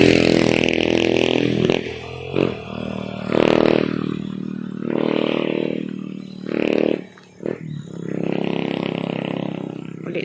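A motorcycle riding along a road, its engine surging and revving in repeated close, loud bursts with brief dips between them.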